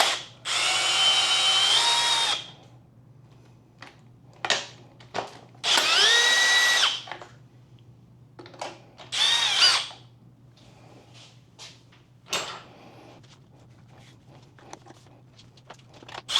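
A power tool removes the small 10mm bolts from the rear fender of a 2024 Yamaha MT10. It whirs in several close, loud bursts of one to three seconds, separated by quiet gaps and brief clicks over a low hum.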